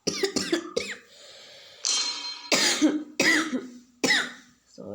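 Several sharp coughs in quick bursts from one person, close and fairly loud, with short pauses between them.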